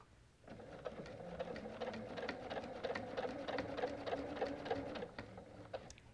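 A sewing machine stitches straight angled quilting lines across a border quilt in a steady, close, continuous mechanical run of rapid needle strokes, stopping briefly near the end with no talk.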